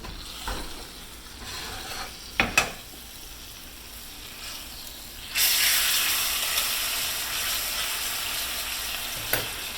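A London broil steak sizzles in a hot skillet, with quiet crackling and a few sharp clanks before a sudden loud burst of hissing spatter that carries on steadily to the end.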